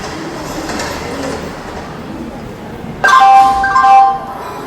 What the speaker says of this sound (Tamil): இப்பதான் நம்ம ட்ரெயின்ல ஏறிருக்கோம்